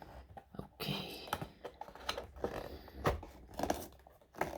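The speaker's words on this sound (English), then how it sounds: "Let's see if I can get the tape off nicely." Tape being peeled and torn off the cardboard box of a Kinsmart Mercedes-Benz Sprinter diecast model van, heard as close, quiet bursts of sticky ripping and crinkling with short pauses between pulls.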